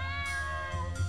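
A cat meows in one drawn-out, wavering call, fairly close and clear, with no other sounds around it.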